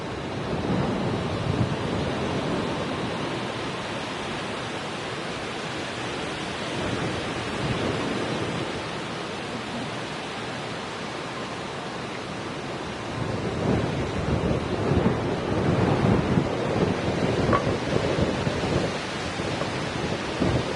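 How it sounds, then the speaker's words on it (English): Wind blows outdoors on a university campus at night as a continuous broad rush that swells louder in gusts toward the end. "wind's picking up again"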